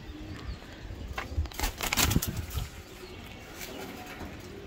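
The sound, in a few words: pigeons cooing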